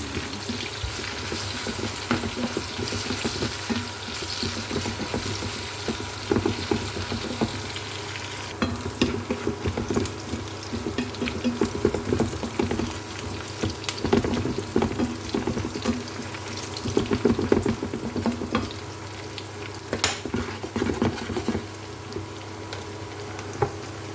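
Squid for adobong pusit sizzles steadily in a hot pan, a loud, continuous crackling fry with occasional stirring clatter and a brief stretch of running water, heard up close.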